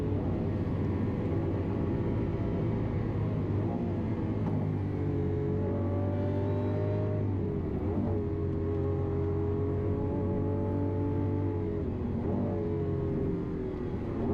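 A Lamborghini accelerates hard at high speed around the Nürburgring, its engine a loud, steady roar with rising harmonic tones as the revs climb, heard continuously from the car without pauses.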